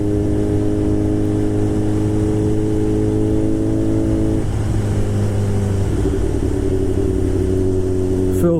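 Motorcycle engine under way on the road, a steady loud hum with clear harmonic tones that drop and shift pitch around the middle, continuous and close throughout with no talk.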